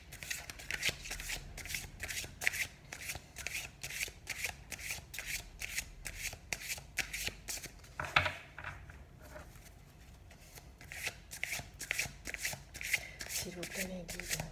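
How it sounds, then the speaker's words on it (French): Tarot cards shuffled steadily up close during a French card reading, a dense run of rapid papery riffles and flicks that continues almost without break, with a brief lull midway before the shuffling resumes. "je tire les cartes devant vous"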